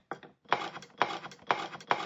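Potatoes are chopped on a kitchen board in a quick, even rhythm, with about five crisp knife strikes spaced roughly half a second apart, close and clear with no voices.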